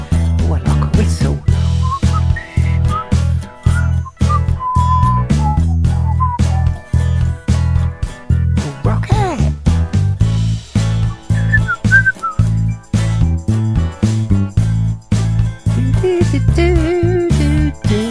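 Someone whistles a bright, steady melody line in a cover of a song, carried over a loud band with punchy drums and bass throughout.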